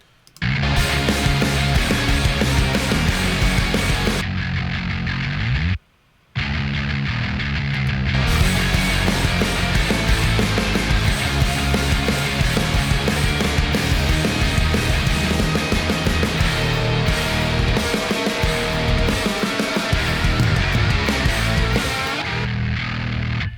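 Loud distorted guitar and bass from a rock mix play together in a dense, driving mix, cutting out briefly for a moment before carrying on.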